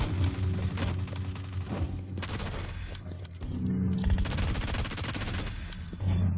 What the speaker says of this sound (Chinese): 这边咱们最小消耗到三发爆炸弓